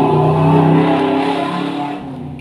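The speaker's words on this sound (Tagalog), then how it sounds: "grabe po ang ingay ng motor dito sa amin." Loud, steady engine roar from a nearby motorcycle, a dense droning rumble holding for a couple of seconds before easing slightly.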